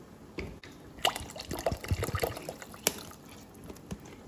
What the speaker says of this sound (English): So I am going to go ahead and add the rest of the water.